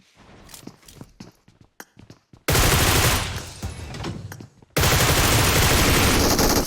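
Gunfire in the PUBG Mobile battle royale game, with a stretch of sparse footsteps and small knocks giving way to loud, dense bursts of automatic fire that stop briefly and then resume, close and filling the sound.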